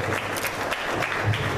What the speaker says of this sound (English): Let's give him a great round of applause for this wonderful story